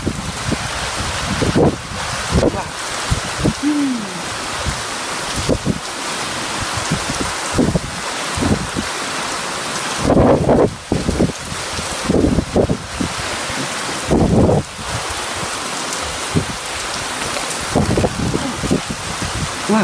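Heavy rain pours steadily during a violent windy storm with some lightning, gusts of wind buffeting the microphone, and a few louder bursts rising over the constant downpour.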